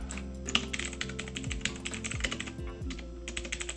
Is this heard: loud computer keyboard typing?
yes